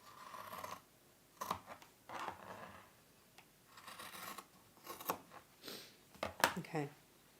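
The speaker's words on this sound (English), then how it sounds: "And then we're going to cut through all layers." Scissors cutting through several layers of a fabric bag at the seam while making pouches: quiet, close snipping and rasping in short bursts separated by pauses.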